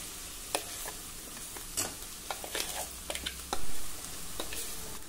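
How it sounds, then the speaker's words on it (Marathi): Ground toor dal is stirred into softened cooked vegetables in a hot pan, with a soft sizzle under repeated close scraping and tapping of the spoon, no voices. "आता यामध्ये आपल्याला ही वाटलेली तुरीची डाळ घालायची आहे"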